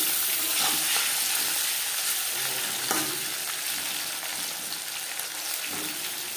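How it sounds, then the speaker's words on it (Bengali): Fried bata fish lifted out of hot oil, a loud continuous sizzle and crackle close by, with a few scraping and clinking touches of a utensil against the pan. "মাছ ভেজে নেওয়া হয়ে গেছে। একটা পাত্রে উঠিয়ে নেব।"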